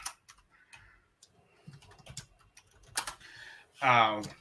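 Quick, light clicks of a computer keyboard as a message is typed into a live chat, soft and close, with brief talk and a short voiced sound near the end.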